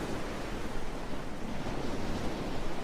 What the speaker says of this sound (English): an ocean tumbled by